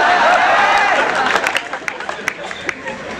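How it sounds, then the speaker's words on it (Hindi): Applause from an audience at a Hindi kavi sammelan poetry gathering, a dense wash of clapping that thins into scattered individual claps, with crowd voices mixed in. "अपने लिए तालियां बजाइए।"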